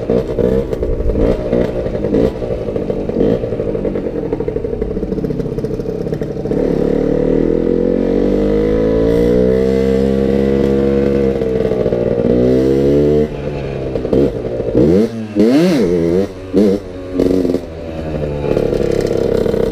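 A motorcycle revs hard through a wheelie, its engine climbing in a long sustained whine, then dropping into rough, choppy bursts and clatter as the front settles, loud and close.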